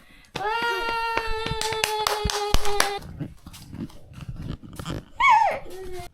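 A voice counts off and calls for a round of clapping at a family birthday during a trip to Jeonju; a burst of sharp hand claps and a short child's cheer follow, with voices chattering over them.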